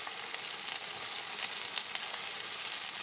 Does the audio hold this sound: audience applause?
no